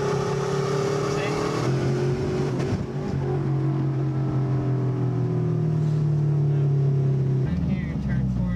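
A Subaru EA82T turbo engine in a GL-10 that blows black smoke runs nearby with a steady rough drone, stumbling and dipping around midway before recovering, while people talk over it.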